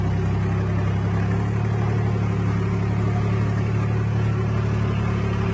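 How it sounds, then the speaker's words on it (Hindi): Heavy truck engines loaded with bamboo labour up a slippery, wet hill road, a steady loud low rumble that holds throughout with no talk. "इंजन गर्जना कर रहे थे।"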